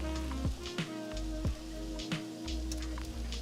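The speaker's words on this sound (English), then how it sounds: "What I wanna do is I just wanna flip this steak over" A steak for fajitas sizzles and crackles steadily in a hot pan as it is flipped, with a continuous frying hiss, scattered pops and a low rumbling hum underneath. No one speaks.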